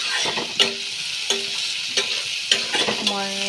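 Garlic fries in hot oil in a wok while a utensil stirs it, a low sizzle under a run of sharp metallic clanks and scrapes that repeat every half second or so.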